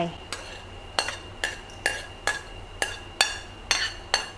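Shrimp go into a frying pan and are stirred, making about ten crisp, evenly spaced scrapes and clinks of a utensil against the pan over a soft sizzle.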